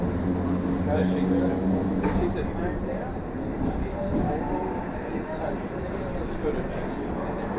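Heritage tram F1, the Red Lady, pulling out from Central in Sydney, heard from aboard as a continuous rumbling rail noise with faint wheel screeches and clanks, while a voice talks at times.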